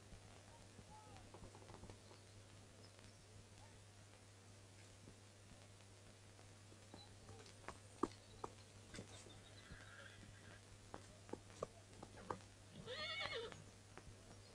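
A white horse gives a faint, brief whinny near the end of an otherwise quiet stretch, with a low steady hum and scattered soft clicks beneath it.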